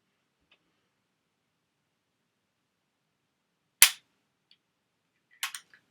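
A pump action rifle fires: one sharp, loud crack, then a second burst of short clicks and snaps from the action about a second and a half later, against near silence.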